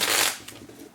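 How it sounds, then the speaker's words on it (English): Tarot cards shuffled close by on camera, a brief crisp riffle followed by softer flicking. "I'm going to continue shuffling them a little bit more on camera."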